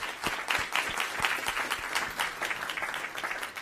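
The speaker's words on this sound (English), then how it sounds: "A big round of applause for those artists again" An audience at a school board recognition meeting applauds student artists, with a steady patter of many hands clapping at moderate volume and individual sharp claps standing out, continuous throughout.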